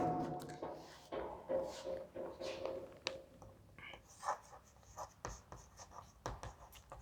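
Marker or chalk writes on a board during a nutrition lecture, a close run of scratchy strokes and taps with uneven rhythm, no voice heard over it.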